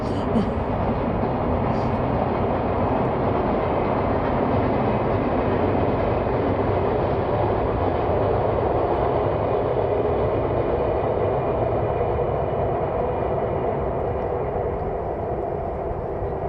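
Loud, continuous rumble and roar of a train passing close by, holding steady for the whole stretch without letting up.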